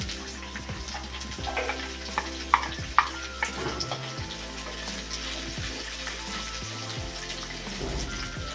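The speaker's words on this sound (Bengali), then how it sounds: "পেঁয়াজটা একটু লাল লাল করে ভাজতে হবে।" Onions fry in a pan for a raw tomato dal, a steady close sizzle with stirring scrapes and a few sharp spatula knocks, no voices over it.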